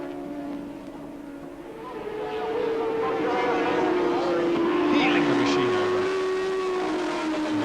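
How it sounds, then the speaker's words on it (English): Racing motorcycles, Suzuki and Kawasaki 600cc machines in a 1988 race, whine past with rising, shifting engine tones that swell louder midway and hold steady, while a commentator talks over them. "right on the back wheel of Brian Morrison, desperately trying to get that Kawasaki up into 2nd place"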